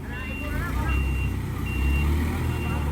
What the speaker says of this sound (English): how many Filipinos does it take to back up one truck with a kubo in it?